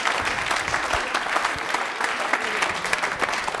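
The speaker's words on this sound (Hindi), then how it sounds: "चलो अभी तालियां एक बार इनके लिए भी हो जाएं" Studio audience on a televised Rajasthani quiz show breaks into steady applause, many hands clapping together in a sustained, fairly close burst with no talking over it.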